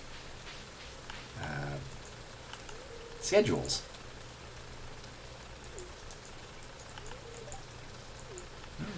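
Soft steady rain patters in the farming video game Stardew Valley, a faint hiss beneath a speaking voice, with a few brief game sound effects popping up over it.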